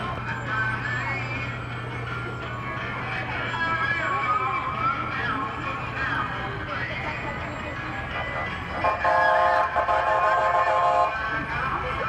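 An East Lynn Fire Department vehicle's siren wails steadily through a street parade, loud and continuous against crowd noise and engine rumble, swelling near the end.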